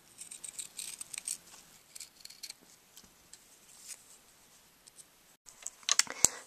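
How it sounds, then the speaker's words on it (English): Scissors cut a costume badge out of thin silver material: a string of close, crisp snips and rustles, irregular and clustered, with brief pauses and a sharper burst of cuts near the end, and no talking. "just cut your badge out of the silver material"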